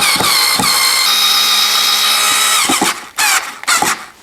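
Power drill driving screws into an electrical outlet box while upgrading a single outlet to a double in a mobile home: a loud, close, high whining motor run for nearly three seconds, then short choppy bursts as the screws tighten down.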